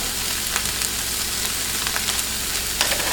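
Nacho taco supreme filling sizzles loudly in a hot pan as it is mixed, a dense continuous frying hiss with small scraping stirs on top, close up and without speech.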